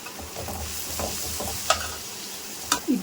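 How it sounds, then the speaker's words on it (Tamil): Onions sautéing in a pan with ginger-garlic paste and green chilies, a soft sizzle with a few sharp scrapes and taps of a stirring utensil. "வெங்காயம் நல்லா வதங்கினதுக்கப்புறம் இஞ்சி பூண்டு விழுது போடும்."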